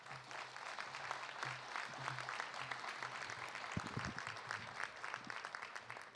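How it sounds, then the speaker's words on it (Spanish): Applause from the audience at a climate change forum, held to send off the officials and the guest speaker. The clapping is steady and diffuse but faint and distant, with a low hum underneath. "con un fuerte aplauso vamos a despedir a todas nuestras autoridades"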